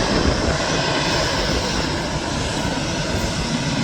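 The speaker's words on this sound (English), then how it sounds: "Beautiful to see a Dreamliner in Gulf Air colours." A Gulf Air Boeing 787 Dreamliner jet airliner at Manchester Airport roars loudly and steadily in a broad, rumbling engine wash that stays strong for the whole stretch.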